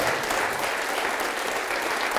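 A church congregation applauds steadily, a dense, even wash of many hands clapping at once that fills the whole stretch without pause, with no distinct voices rising above it.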